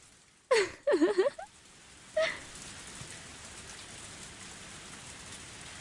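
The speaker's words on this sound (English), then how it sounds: "The sound of falling raindrops was fierce as always." Heavy rain pours down around a parked car in the anime Higurashi When They Cry, a constant even hiss beneath a few short vocal gasps near the start.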